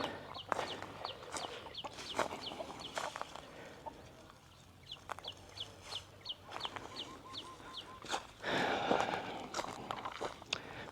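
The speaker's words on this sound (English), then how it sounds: "This is a rooster." Injured rooster, apparently hurt in a fight, in Udon Thani, Thailand: a series of soft, rapid clucks in short bursts at moderate distance, with scattered footsteps and knocks in a quiet outdoor setting.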